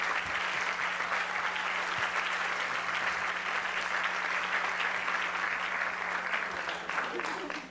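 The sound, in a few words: audience applause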